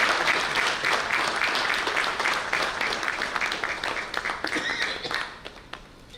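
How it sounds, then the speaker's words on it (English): An audience at a panel discussion on ratings and economic resilience claps in a dense, even burst of applause that holds steady, then thins out and fades over the final second. "Kindly give a big round of applause"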